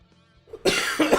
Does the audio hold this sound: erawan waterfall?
no